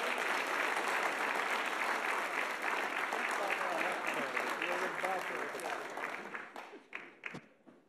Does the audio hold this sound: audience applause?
yes